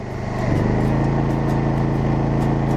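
Honda EU22i inverter generator running steadily and loudly, its engine note rising and holding at higher revs as a hairdryer load is added, a continuous close-up drone with no talk.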